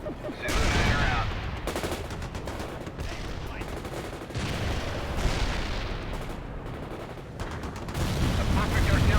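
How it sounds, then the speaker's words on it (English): Artillery shells land in World in Conflict, a real-time strategy game, in heavy rolling booms and crackling impacts that swell in several loud waves over a constant battle rumble, with voices faintly audible. "A perfect artillery hit."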